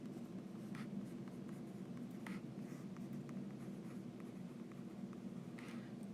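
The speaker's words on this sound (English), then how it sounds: "we can trace the figure" A pencil traces a figure on paper, faint soft scratching strokes in short bursts over a quiet room hum.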